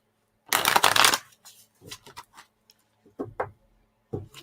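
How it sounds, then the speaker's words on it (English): Playing cards are shuffled up close: a loud riffle burst near the start, then several shorter taps and soft riffles as the deck is squared and handled, with quiet gaps between. "All right, one more shuffle."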